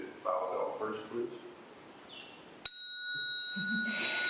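A temple bell rings once at a Buddhist temple service, a sudden bright strike whose long shimmering tones sustain to the end, following chanted voices and with speech resuming beneath the ringing.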